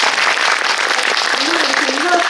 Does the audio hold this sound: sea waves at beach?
no